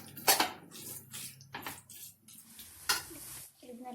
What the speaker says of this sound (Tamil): இது நல்லா வதங்கி வந்துட்டு இந்த வேக வச்சுருக்கேன் போட்டு நல்லா எல்லாம் நல்லா கிளறி விட்டாச்சு